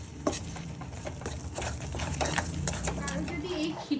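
Kheer mixture with milk powder stirred in a pan: soft scraping and stirring sounds with a light bubbling sizzle, moderately quiet and continuous.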